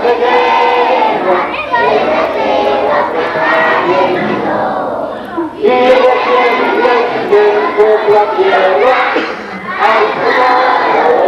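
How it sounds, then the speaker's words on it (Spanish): Primary school children at a November 20 ceremony in Ixtlán del Río, Nayarit, shout a war cry in unison: a loud, close crowd of young voices chanting in rhythmic bursts with brief pauses between phrases. "Gritando con grito de guerra"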